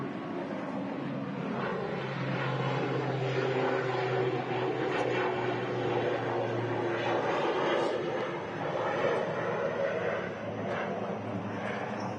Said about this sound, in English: As per usual, the ATR not using much runway. It's only a short flight over to Dublin